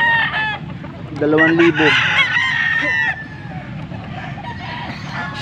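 Young rooster (stag) crowing once with a rising, strained call, followed by scattered clucks from nearby fowl, loud and close while someone speaks briefly.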